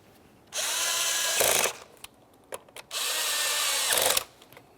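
A power tool runs in two sustained bursts, snugging the alternator cover mounting bolts on a 2001-2005 Ford Sport Trac XLT, with short clicks and taps between the runs.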